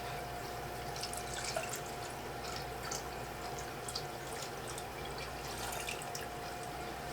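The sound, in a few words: water being poured into a betta fish tank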